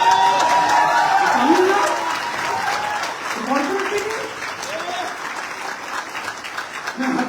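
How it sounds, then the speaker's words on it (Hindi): Audience clapping at a motivational seminar, a sustained patter of many hands that continues steadily while someone talks over it near the microphone. "ताली भी ऐसे बजाएंगे,"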